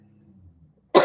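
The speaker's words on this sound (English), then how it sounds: "Geez, I still got this cough." A single loud, harsh cough bursts in after a near-silent stretch with a low hum, close to the microphone.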